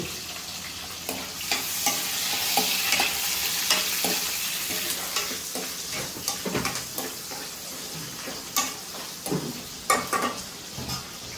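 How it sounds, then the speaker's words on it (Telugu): Onions and green chillies fry in a pan while being stirred, giving a steady close sizzle broken by scraping taps of the spoon, with no talking. "ఇదిగోండి వేగినాయి కదా ఇప్పుడైతే ఉల్లిపాయ పచ్చిమిర్చి కూడా వేసుకుంటున్నాను"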